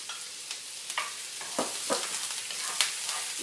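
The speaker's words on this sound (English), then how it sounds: "you're just going to add in your onions. You can hear it sizzle." Diced onions sizzle in hot oil in a saute pan, a steady close frying hiss broken by scattered pops and the scrape of stirring.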